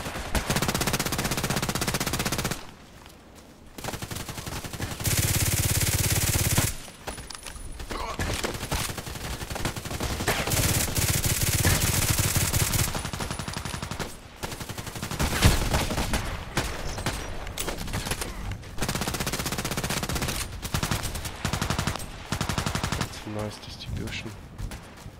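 Rapid automatic gunfire from a first-person shooter game, sustained in long loud bursts with brief pauses between them, continuing close and dense for much of the stretch.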